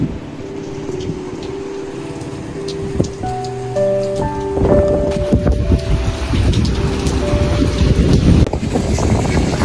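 Steady rain falls outdoors on a surface, a broad continuous wash with some wind noise, rising louder in the second half, while a motorbike stands nearby and tonal hums and a few sharp knocks cut through.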